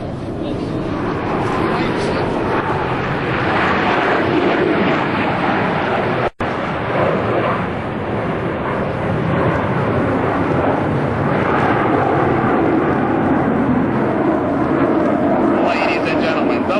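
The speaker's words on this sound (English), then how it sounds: "the diamond will split with all 4 aircraft exiting the flight line in separate directions." US Navy Blue Angels jets roar at an airshow, a loud continuous thundering jet rumble filling the whole stretch as the four-jet diamond splits apart, with an announcer's voice mixed in.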